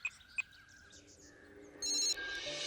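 A telephone rings during a phone call in a Hindi-dubbed action film, with two short chirps followed by a louder, steady electronic ring tone near the end, fairly quiet overall and with no talking.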